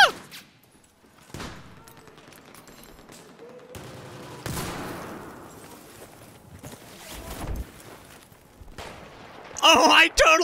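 The Unico gun firing in the game Battlefield 4, scattered sharp shots amid battle noise and a loud burst near the end, with a voice talking in between.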